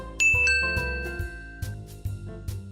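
A bright notification bell chimes at the start, followed by several ringing dings and tinkling tones over a soft musical backing, clear and close with no talk.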